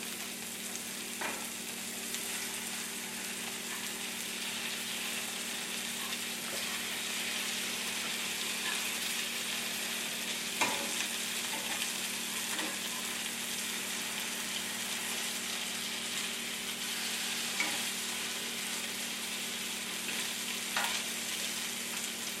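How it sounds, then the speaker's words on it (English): Frikadeller meatballs frying in a pan over medium heat, a steady soft sizzle and crackle with occasional louder pops, heard alone without talk. "Then you turn it at a medium heat and just let them sit."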